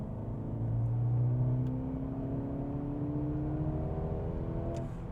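A Mercedes-Benz CLA35 AMG accelerates hard from inside with the pedal floored, its engine note climbing steadily through a gear and rising again after a brief shift, loud and continuous with no talk.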